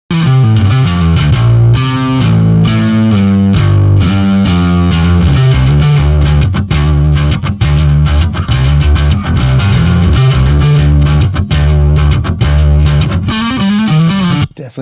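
A bass guitar runs through the Seismic Bass Suite amp with its quake knob adding low end, playing a loud, thick, heavily distorted modern metal riff with chugging notes throughout.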